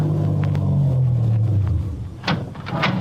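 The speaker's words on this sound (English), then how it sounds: "I started my car away from the curb slowly, keeping him in sight." A car engine hums low and steady, then slides down in pitch as the car pulls slowly away from the curb in a 1951 radio drama, ending with a few sharp knocks and swishes.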